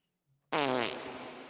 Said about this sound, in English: Here's the fart noise.